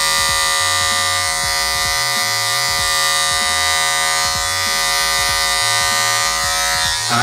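Steady, loud electric buzz of a Magic Clip hair clipper cutting close while fading a beard, humming continuously with small pitch wobbles as it passes through the hair, with no speech.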